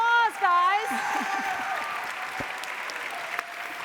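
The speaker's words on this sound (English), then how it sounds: "Let's give them a big round of applause, guys." An audience at a science fair panel session applauds its panelists, the clapping rising after a brief stretch of voice at the start and continuing as a steady wash to the end.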